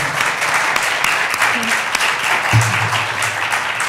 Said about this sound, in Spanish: quisiera por favor pedirles un aplauso tanto para Isabel como para Melba